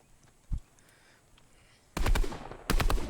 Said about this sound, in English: the drum gun really helped me here in this fight